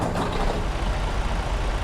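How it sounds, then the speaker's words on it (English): A Freightliner Cascadia truck with an X15 engine in a driving video game, its deep diesel rumble steady and close throughout the short stretch, with no talking. "I'm gonna go ahead and fire it up. I got the X15 in this thing"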